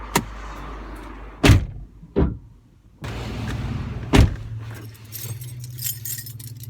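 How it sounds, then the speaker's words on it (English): A car's fuel filler door handled beside the vehicle: sharp clacks and a metallic click as the small flap is worked open, with jingling keys and a low idling hum between the knocks, close and loud. "Gas door."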